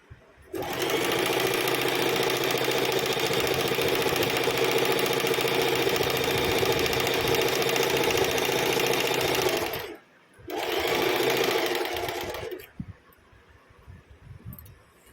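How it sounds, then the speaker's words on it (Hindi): A sewing machine stitches a kurti in a long, loud, continuous run, breaks off briefly, then runs again for a couple of seconds before stopping into quiet handling sounds. "सिलाई लगा लेंगे।"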